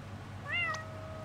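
A cat in the video game Impostor Factory gives a single short, rising meow, fairly faint over a low steady background hum.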